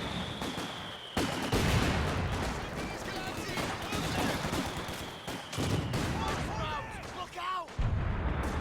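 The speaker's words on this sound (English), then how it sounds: "as soon as you hear the artillery coming in" Artillery fire in a Company of Heroes 2 match: a dense, continuous barrage of booming shells and rattling gunfire, loud and close, with no gap across the whole stretch.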